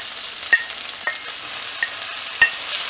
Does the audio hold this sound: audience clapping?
no